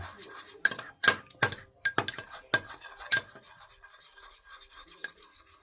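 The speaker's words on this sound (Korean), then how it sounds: "이렇게 넣어서 자 섞어 보도록 하겠습니다 잘 섞어서 먹음직스럽죠?" Utensil clinking against a glass or ceramic bowl while egg yolk is being mixed with other ingredients, a run of sharp irregular taps that is denser early and then thins to sparse light clicks.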